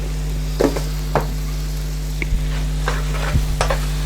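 Soy sauce sizzling as it cooks off in a hot balti pan for a mixed special balti, with a steady frying hiss broken by several sharp scrapes and clacks of stirring.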